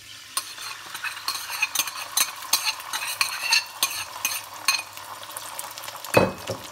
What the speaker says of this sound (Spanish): Los 4 huevos que tenía los voy a batir